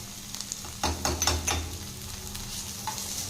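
Chopped chilli and grated ginger are stirred in a pan of hot oil, giving soft scraping strokes over a quiet continuous sizzle, with a few brief clusters of stirring near the start.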